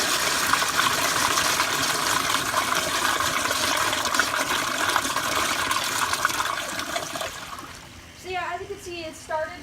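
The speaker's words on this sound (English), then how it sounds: "I'm gonna do one more flush like this" A Crane Placidus wall-hung toilet flushing, a loud steady rush of water that swirls and drains, then gives way to gurgles and trickling as the bowl refills.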